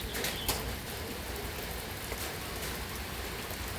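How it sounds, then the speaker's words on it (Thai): Steady rain falling, a dense continuous hiss of drops with a few sharper patters, no voices. "นี่กับบรรยากาศฝนตกพี่น้อง"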